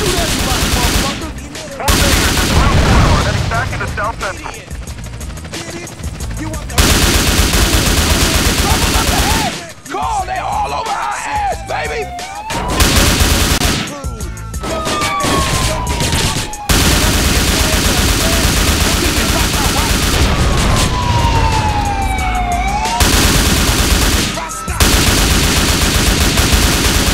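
Dense, loud gunfire in GTA San Andreas, with rapid automatic bursts and fusillades running almost continuously under voices and shouting, and whistling, sweeping sounds in places.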